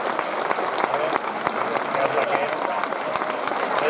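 Applause at a village festival in Castellnovo, Spain, with crowded clapping and sharp individual claps standing out. Voices murmur and talk underneath the clapping.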